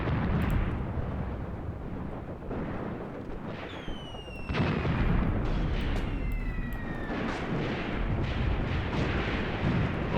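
Artillery fire in an Eastern Front war video game battle makes a dense, continuous rumble of distant blasts, with a few whistling shells passing overhead.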